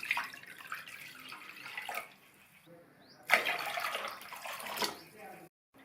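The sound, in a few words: pouring water into a mixing bowl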